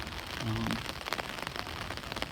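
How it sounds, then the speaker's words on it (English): Rain falls steadily at an outdoor funeral burial in California, a dense, even patter and hiss of drops on surfaces, close and continuous, with a brief low tonal murmur early on and no clear talk. "on this rainy day here in Cali"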